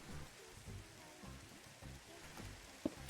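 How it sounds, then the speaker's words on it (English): Steady rain falls in a Minecraft world, a soft even patter with no voices. "Now we just get to listen to the sound of the rain."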